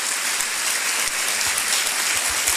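Applause from the audience at a business opportunity meeting in Guadalajara, a dense, continuous wash of clapping that is loud and steady throughout without talk over it.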